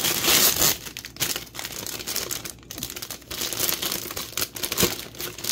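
Plastic bags from an HG 1/144 Gundam model kit are handled and opened, crinkling and crumpling in close irregular bursts with brief pauses, no speech.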